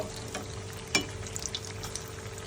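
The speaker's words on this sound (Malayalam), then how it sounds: "നമ്മുടെ ചെമ്മീൻ കട്ട്ലറ്റ് ഇവിടെ റെഡി ആയിക്കൊണ്ടിരിക്കുകയാണ് മറിച്ചിട്ടുണ്ട്" Prawn cutlets frying in a pan make a continuous close sizzle with light crackles and one sharper pop, heard on its own without talk.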